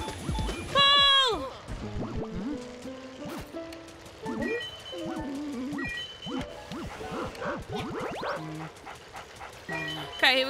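Paul the dog barks in the video game Luigi's Mansion, with short yaps and pants scattered among chimes and game effects while a player shouts excitedly over them.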